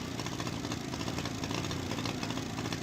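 Small motorcycle engine idling with a misfire, a continuous low throbbing putter with a slightly uneven pulse, close up and alone without talk.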